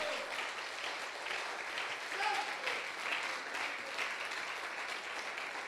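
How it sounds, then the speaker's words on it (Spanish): A church congregation breaks into sustained, even applause during a worship service, with clapping that fills the space and faint voices mixed in. "Dele un fuerte aplauso al Señor"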